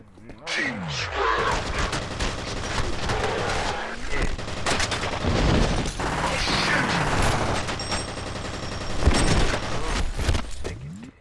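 A gunfight in the video game F.E.A.R. brings shotgun blasts and bursts of return fire mixed with mechanical clatter and loud impacts, while a voice talks over the action.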